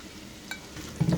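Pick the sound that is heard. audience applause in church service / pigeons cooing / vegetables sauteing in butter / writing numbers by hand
vegetables sauteing in butter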